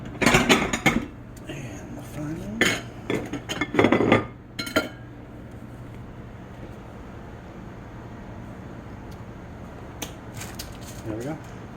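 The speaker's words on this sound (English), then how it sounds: "I'll be replating because I know that doesn't look very appealing" A pork chop and egg biscuit is replated, with clinks, scrapes and clatter of dishes and cutlery in the first few seconds, then a long quiet stretch before a few faint clicks near the end.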